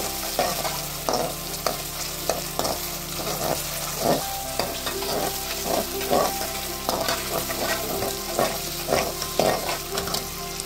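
Mixed vegetables being half-fried in a hot pan for veg chowmein: a continuous close sizzle broken by regular clanks and scrapes of a spatula tossing and stirring, with no talking.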